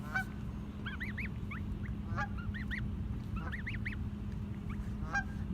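Goslings hatching at a pond give repeated high, rising peeps in quick bursts and clusters, moderately close, over a steady low background hum.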